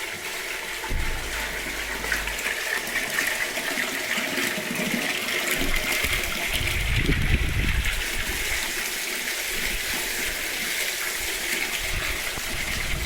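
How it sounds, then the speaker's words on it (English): Spring water in southern France gushes and splashes steadily nearby, a dense, continuous rushing flow with a brief louder burble midway and no voices. "Spring water."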